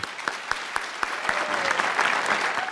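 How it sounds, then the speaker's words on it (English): A crowd applauds new citizens at a naturalization ceremony, starting with a few sharp separate claps that quickly build into steady, fuller applause. "I think you owe yourselves a big round of applause for that."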